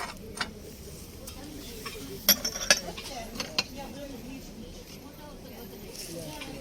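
Occasional ceramic clinks and light knocks of dishes being handled at a flea market stall sound over a murmur of nearby conversation.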